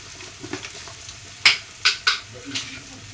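Meat with coriander leaves being stirred in a pan on a gas stove, giving a few sharp scraping clinks of a utensil against the pan over a soft sizzle, near and fairly loud.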